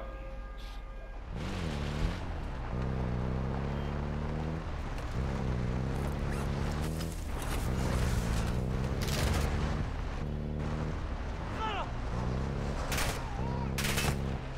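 Gunfire in Call of Duty: Modern Warfare II DMZ mode, with loud bursts of automatic fire and heavy booms over a constant engine-like drone, the shots coming in clusters throughout.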